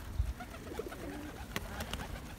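Pigeons coo softly in a low, faint murmur during their mating display outdoors, with a few sharp clicks and scuffs nearby.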